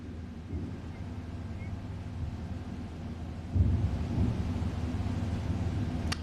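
Heavy monsoon rain and thunder in Uttarakhand, heard as a steady low rumble that swells louder about halfway through and continues to the end.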